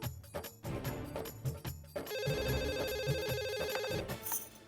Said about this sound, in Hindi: माधवी भाभी को करता हूँ।